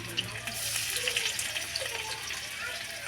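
Chopped onion, garlic and chili sizzle in a hot wok, a steady bright hiss of frying that stays close and even.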